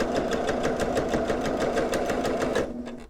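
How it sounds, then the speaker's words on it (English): A sewing machine runs steadily, stitching a seam through layered transparency sheets with a fast, even mechanical chatter that stays close and loud before slowing and stopping near the end. "I am going to sew straight down here to make a seam."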